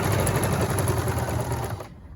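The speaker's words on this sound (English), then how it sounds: "Stitching around the curve." A sewing machine stitches a curved seam on simplified pajama pants, a steady rapid mechanical chatter running close and loud for about two seconds before cutting off abruptly.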